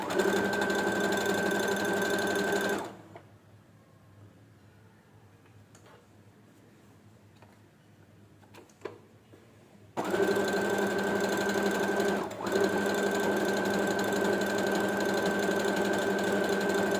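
A sewing machine fitted with a hemming presser foot stitches a blouse or saree hem in fast, even rattling runs that stop for several seconds of near silence, then start again just as loud.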